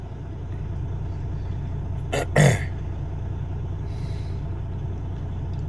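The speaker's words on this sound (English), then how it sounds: "The engine, I mean, it sounds okay" A truck engine runs in a steady low rumble throughout, close and fairly loud. Midway, a short burst like a cough or an air-brake hiss rises briefly above it, and a faint hiss follows later.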